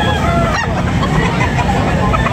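Poultry at a Batangas chicken market, a young stag among them, clucking and crowing in a dense, continuous bird chorus with traffic and crowd murmur behind it.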